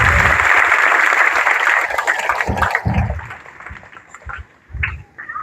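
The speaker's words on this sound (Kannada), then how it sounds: "ಅವರಿಗೆಲ್ಲರೂ ಚಪ್ಪಾಳೆ ತಟ್ಟಿ ಗೌರವಿಸ್ತೀವಿ." An audience claps at a village religious recitation and cradle ceremony. A dense burst of applause fades into scattered claps and background noise.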